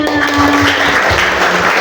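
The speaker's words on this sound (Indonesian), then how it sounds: "tepuk tangan" A group of young people applauds together after reciting a commitment pledge, loud and close, a thick burst of clapping with a faint tonal hum beneath it.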